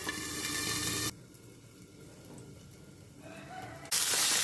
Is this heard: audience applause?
no